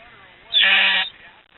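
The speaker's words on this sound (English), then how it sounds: "We actually have reception, but that squeal is very annoying." A 1987 GE AM/FM portable radio gives a brief, bright, steady squeal lasting about half a second, rising abruptly over faint background reception before cutting off.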